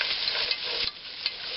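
Chopped onions fry and sizzle steadily in a hot pan for cabbage with smoked bacon, with a couple of brief stirring scrapes. The sound is close and continuous, and nobody speaks.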